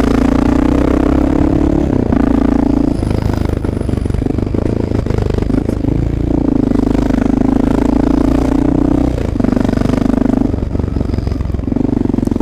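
An XR650L dual sport motorcycle rides steadily, its single-cylinder engine droning loud and close with rhythmic dips and rises as the rider brakes with front and rear together, alongside faint clatter and wind.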